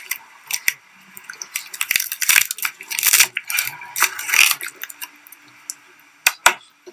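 Dull knife cutting through a 7-Eleven tuna mayo onigiri rice ball in its plastic wrapper, with close crunchy crackles and scraping strokes in irregular bursts, loud and uneven.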